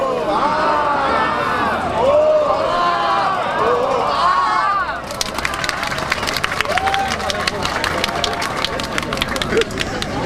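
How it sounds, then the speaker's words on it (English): A street crowd at an Extinction Rebellion climate march in Utrecht, Netherlands, murmurs and calls out, then a scattered patter of clapping breaks out in the second half under the continuous hubbub. "there was some oohing and eyeing and a spattering of applause"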